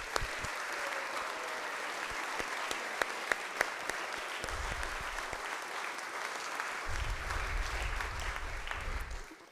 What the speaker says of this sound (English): So can you please give them a big round of applause?